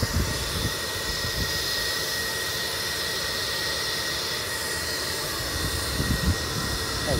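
A drone flies overhead near a bee trailer colony, heard as a steady, loud broadband whine and hum that holds through the whole stretch, with faint rustling and handling bumps below.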